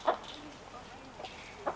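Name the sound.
chickens clucking in coop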